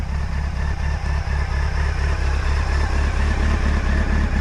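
A motorcycle idles right after being jump started on a cold morning, an even, throbbing low pulse running steadily and close by without a break.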